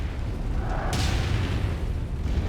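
Mech weapons pounding enemy artillery cannons in MechWarrior 5 Mercenaries during a beach assault: a heavy, steady rumble of gunfire with one bright cracking impact near the middle, loud and close.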